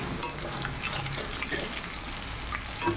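Potato pieces frying in a pan in a home kitchen, a close, steady sizzle with light crackles and faint stirring clinks.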